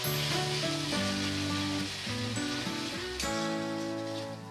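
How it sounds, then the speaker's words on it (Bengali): Ginger paste and onion fry in a pan with a steady sizzle, partly buried under louder melodic background music throughout. "এবার আমি আদা পেঁয়াজটা ভালো করে ভেজে নেব"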